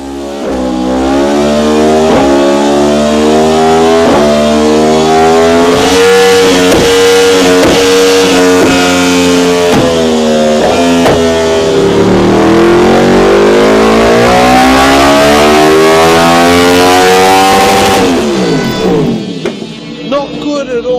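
Yamaha MT-10 motorcycle engine revving hard on a dyno with a lean air-fuel ratio, a loud sustained harmonic roar sweeping up and down in pitch for about eighteen seconds before cutting off abruptly.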